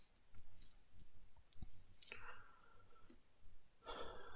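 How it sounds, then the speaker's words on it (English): A deck of One Piece trading cards is shuffled at a tabletop tournament match, giving faint, scattered clicking and riffling bursts in a quiet room. "So shuffling."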